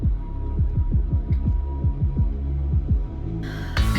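A heartbeat-like synth pulse in a song, with deep, regular thumping beats in a steady throbbing rhythm over a low hum, then a bright burst of added sound near the end.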